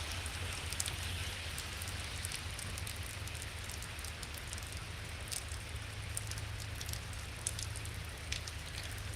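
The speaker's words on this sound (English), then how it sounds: "rain's picking up" Steady rain falling during a storm in Pittsburg, Kansas, a constant faint hiss of drops on surfaces with scattered sharper ticks, no voices.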